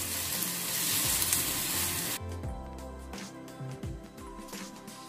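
Oil sizzles steadily in a pan for about two seconds, then drops to a quieter frying crackle with occasional stirring clunks and scrapes, close and without speech.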